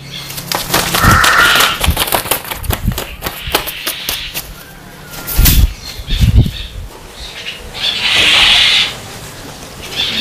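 A crow's wings flap in quick bursts of fluttering, fairly close, with pauses between flights and a few sharp knocks.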